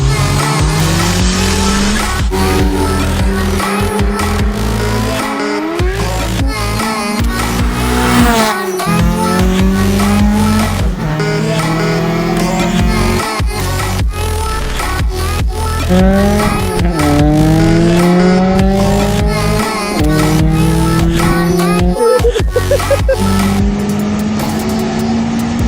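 A car rides along a road with a loud, continuous engine drone that rises and falls in pitch through repeated gear changes. The trip is a drive to pick up a motor for an Acura Integra build, so the sound may not come from the Integra.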